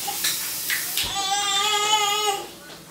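Water pours into a pot in a kitchen, a brief close splashing stream that rises in pitch as it fills, with faint background voices.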